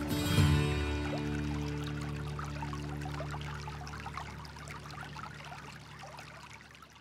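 Creek water in brook trout country flows steadily, a close, continuous trickling and gurgling stream after a brief louder thump at the start.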